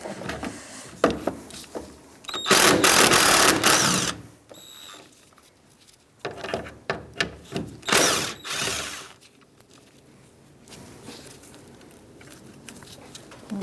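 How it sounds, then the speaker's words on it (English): Ratchet with a 10mm socket working the hood latch bolts on a 2010-2013 Kia Soul 2.0L, clicking pawl bursts and short mechanical rattles up close, with a couple of louder spells and quiet gaps between. "now we're going to take our hood latch off with 10mm socket"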